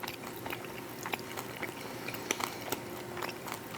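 Someone chews a mouthful of crunchy, under-rehydrated freeze-dried red quinoa and black bean salad, giving faint, close, irregular crunches and bites repeating throughout, with no talking.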